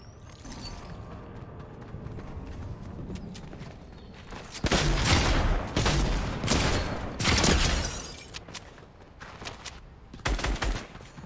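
Gunfire in the video game Fortnite, with shotgun blasts named as the weapon: several loud, dense bursts of shots in the second half, separated by brief pauses, over busy game ambience and footsteps, with no voices.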